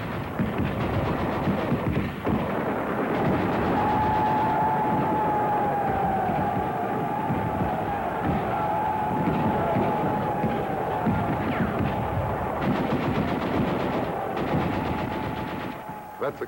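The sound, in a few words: automatic rifle gunfire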